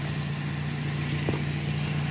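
A 2004 Scion xB engine idles steadily after a rebuild, a low constant hum with a faint tonal whine above, close and continuous with one brief click partway through.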